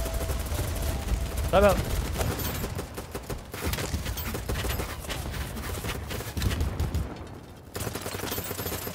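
Rapid gunfire in the video game BattleBit, dense bursts of automatic shots mixed with game effects and background noise, with a voice briefly talking over the action.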